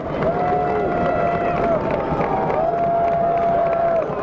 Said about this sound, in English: Hayes fans come to their feet cheering on their defense here.